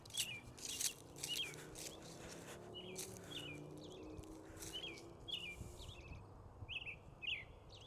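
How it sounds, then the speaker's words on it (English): Birds chirp outdoors on a clear, sunny, slightly cold day, with repeated short tweets and calls scattered through the clip over a quiet background hum. "You can hear the birds."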